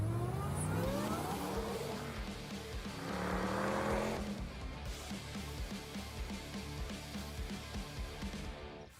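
A Hellcat Gladiator truck's engine revs hard and loud, rising in pitch then settling into a steady rumbling idle, heard alone and up close.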